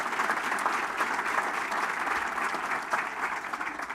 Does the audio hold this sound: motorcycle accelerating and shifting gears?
no